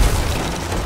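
Heavy cannon fire booming against a ship during a pirate galleon battle in a video game, a dense continuous low rumble of blasts lasting under a second.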